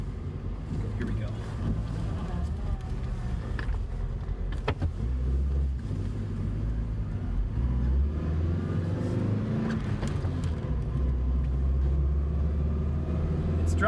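A truck engine idles and drives with a steady low rumble, heard from inside the cab close up, with faint rattles and bumps over the drone.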